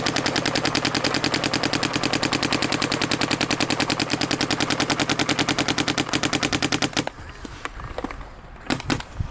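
A Gtek 180R paintball marker fires a long rapid string of evenly spaced shots, loud and close, for about seven seconds before stopping; a few scattered softer pops follow.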